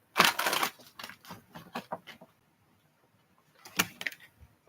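Tarot cards shuffled by hand in quiet bursts, a crisp riffling flurry followed by a string of short soft flicks and taps, a pause, then another brief burst of card rustling close by.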